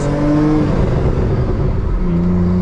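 A BMW M3 with a manual gearbox hums loudly and steadily under acceleration, the engine note dropping in pitch near the end as it shifts up a gear, heard up close.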